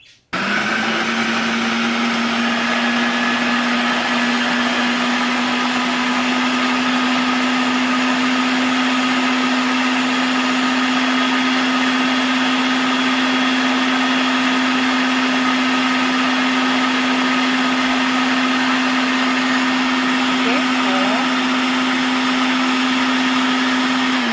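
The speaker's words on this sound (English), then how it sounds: "let's get blending" Blender whirring steadily as it purees a tofu fruit smoothie with coconut, a loud continuous motor hum with a fixed pitch that runs unbroken and alone throughout.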